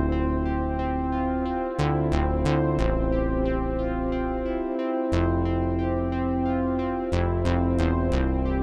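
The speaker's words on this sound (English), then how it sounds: "our bass line sounds like this" A programmed bass line on a Polyend Play+ groovebox, sustained synth bass notes changing pitch in a steady sequence with bright plucky accents layered on top, loud and clean without any voice.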